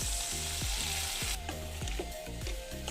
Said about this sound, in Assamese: পিঁয়াজ আৰু জলকীয়া ভাজি লৈছোঁ তাৰপিছত এতিয়া ইয়াত দিম মই অলপ চয়া চচ